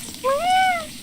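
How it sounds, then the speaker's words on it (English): Little bush bug creature in the video game Hollow Knight giving a short, rising, meow-like chirp, clear and close, alone for about half a second. "I love the ones that are, like, the little bushes that come out and make an adorable noise."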